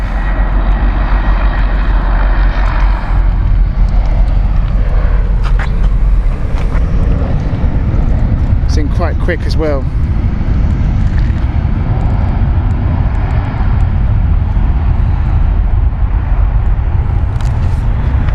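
A loud, steady roar of an aircraft engine with an engine fault, with a few sputtering, uneven bursts partway through, wind buffeting the microphone and a brief spoken remark.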